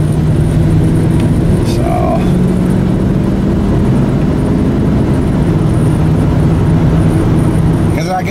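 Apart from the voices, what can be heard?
truck being driven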